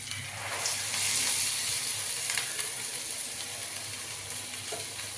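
Beans poured into a hot pan crackle and sizzle close by, a busy frying hiss that rises as they land, then settles into steady sizzling with scattered small pops and a few stirring scrapes.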